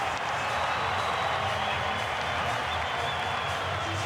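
Stadium crowd applauding after a successful rugby conversion kick in a South Africa v Australia Rugby Championship match on the Gold Coast, a dense, steady wash of clapping and crowd roar sustained throughout at even loudness.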